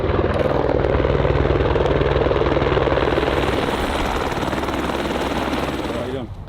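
Black Hawk helicopter, loud, close and continuous rotor thumping with a heavy engine whine throughout, ending in a brief dip at the close.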